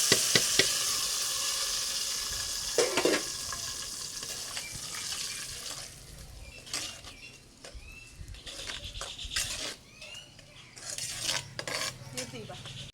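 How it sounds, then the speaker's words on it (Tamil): Mustard seeds spluttering in hot oil for tempering a village-style greens dish, a steady sizzle broken by scattered sharp pops and brief clinks of a utensil against the pan. No one speaks. "எண்ணெய் ஊற்றி கடுகு போட்டு பொரிஞ்சிச்சு"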